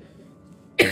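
A single sharp, fairly loud cough bursts out at the very end, after a stretch of near silence with only a faint low background hum.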